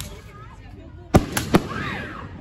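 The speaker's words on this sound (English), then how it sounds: "we are going to be watching the fireworks here" Fireworks bursting at night during a Fourth of July celebration, three sharp booming pops in quick succession after a quiet stretch of low background noise.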